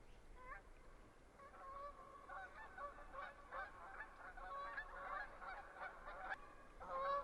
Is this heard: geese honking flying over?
yes